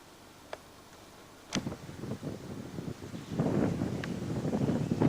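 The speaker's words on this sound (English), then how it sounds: "Bit of a wind blowing, quite pleasant." Gusty wind buffeting the microphone outdoors in Rabaul town, starting faint and growing into a louder, rumbling rush.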